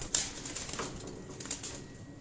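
Pigeons in a breeder loft make soft, faint fluttering and rustling, with a few light wing flaps and brief bird sounds over quiet room noise.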